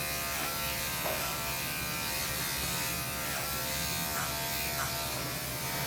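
Electric clippers fitted with a 1 guard trimming a Goldendoodle's ears, a steady close buzzing hum running continuously with slight changes in pitch as the blade moves through fur.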